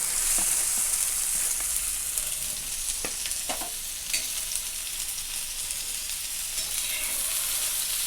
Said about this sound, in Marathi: तर आता भेंडी टाकून घेते मी